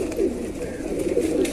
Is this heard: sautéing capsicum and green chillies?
no